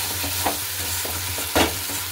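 Poppy seed paste (posto) frying in oil in a pan while being stirred, a steady sizzle broken by a few distinct scraping strokes of the spatula, close and fairly loud.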